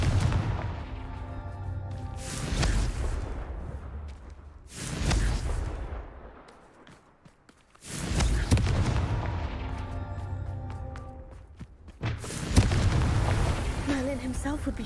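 Repeated Confringo fire-spell blasts from Hogwarts Legacy on PS5, four loud booming bursts roughly every two to three seconds, each with a rumbling decay, under steady game sound and some speech.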